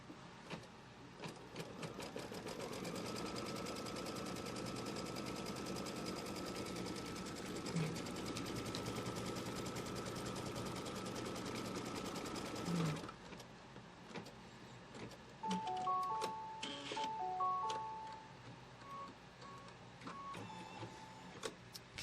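An embroidery sewing machine runs a steady, rapid close stitching whir while tacking quilting fabric down, then stops, leaving faint clicks and small machine beeps.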